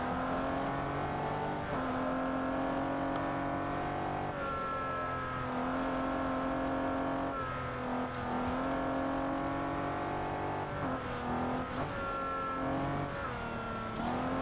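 A Bentley's engine drones steadily while driving in Test Drive Unlimited Solar Crown, pitch climbing and dropping with gear shifts and throttle changes, continuous and fairly quiet with no talk.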